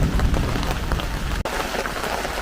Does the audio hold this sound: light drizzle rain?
yes